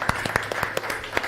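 Sparse, separate hand claps from a pastors' conference audience, a handful of sharp slaps in loose rhythm over a quiet background.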